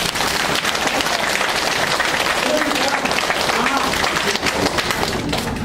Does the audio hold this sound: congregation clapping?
yes